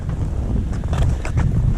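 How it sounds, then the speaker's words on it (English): Wind buffets loudly with low rumbling gusts across the microphone at a deer stand in bitter cold, steady throughout the short stretch. "You see the wind blowing through our deer stand."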